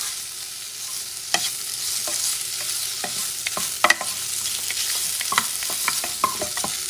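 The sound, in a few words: salted pork frying and being stirred and broken apart in pan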